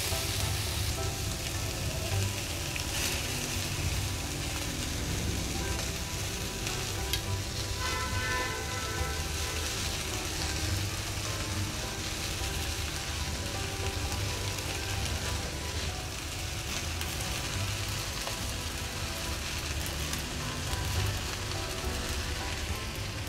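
Chicken and spaghetti sizzle and fry steadily in a frying pan on a low flame, a dense, constant crackle that holds at an even level throughout.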